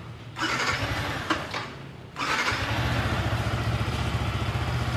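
A 2025 Yamaha R15m motorcycle engine cranks briefly, then catches and settles into a steady, close, loud idle with a rapid, even pulse.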